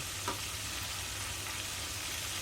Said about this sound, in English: Okay, so the tenders are frying and the grease is hot.